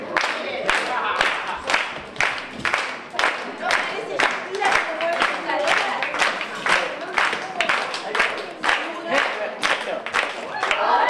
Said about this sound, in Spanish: si ustedes hacen palmas, la muñeca baila y mueve las caderas